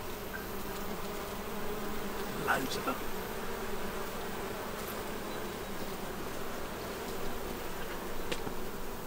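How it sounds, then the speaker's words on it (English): A steady, dense buzzing of many bees fills the air at Chartwell, Winston Churchill's former home, with a brief spoken remark and a few louder fly-bys. "Can you hear the bees here"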